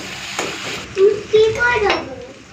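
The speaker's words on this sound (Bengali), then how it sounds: "চলুন এটাকে একটুখানি ভেজে নিই" Chopped ginger and green chilli fry in a pan for an aloo paneer curry, giving a moderate sizzle with stirring clatter while a person talks over it.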